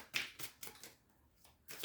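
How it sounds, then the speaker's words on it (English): A tarot card deck is shuffled in soft, quiet bursts of papery riffling, separated by short pauses. "let's shuffle a little bit more from this deck"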